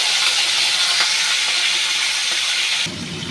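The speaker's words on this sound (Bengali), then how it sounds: "তেলটা গরম হয়ে গেছে, এক এক করে মাছগুলো ছেড়ে দিচ্ছি।" Katla fish fillets, rubbed with salt and lemon, frying in hot oil, giving a loud, close, steady sizzling hiss that continues without a break and drops to a quieter level near the end.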